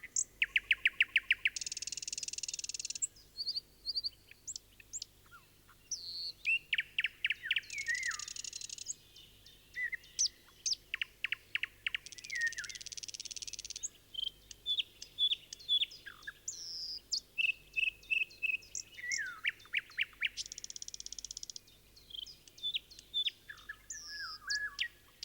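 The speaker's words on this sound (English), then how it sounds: "A golden oriole. Lower down, a thrush nightingale." Forest birdsong from a golden oriole high in the tree crowns and a thrush nightingale lower down, with bursts of chirping phrases, whistles and rapid trills repeating in clear, separate runs over a quiet background.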